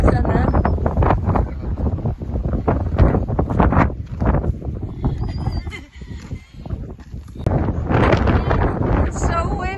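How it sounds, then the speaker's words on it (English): Strong seaside wind buffets the microphone in steady gusts, roaring and rumbling while people talk over it in a blustery coastal setting. "It's so windy."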